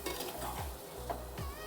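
Soft pabda fish being added to a clay pot and gently stirred, giving quiet scraping sweeps and faint sizzling at a low, close level.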